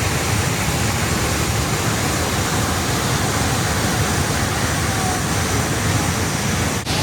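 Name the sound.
waterfall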